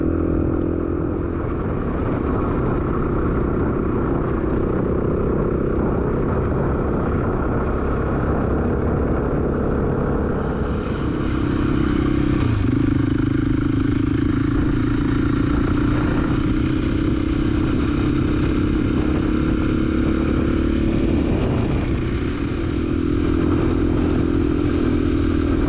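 A motorcycle rides along a road in Sweden with a steady engine drone and wind noise. A rattling clatter runs throughout, and the tone rises in pitch partway through as the bike speeds up.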